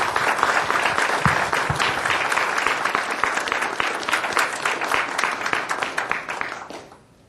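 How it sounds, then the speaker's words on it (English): A room full of people at a Rapid City city council meeting breaks into loud, dense applause that holds steady for several seconds before tapering off and fading out. "and I want to give Steve Allender another round of applause."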